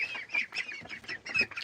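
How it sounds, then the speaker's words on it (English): Appleyard ducks and chickens calling together at close range, a steady run of overlapping quacks and clucks with no break, no voices over them. "Come on in, ducks."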